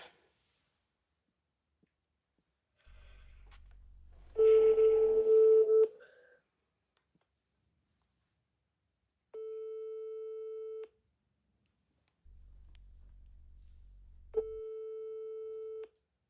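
Touch-tone dialing followed by repeated busy-signal beeps on a phone call, in two alternating bursts of low clicking dial pulses and steady tones, clear with no talk.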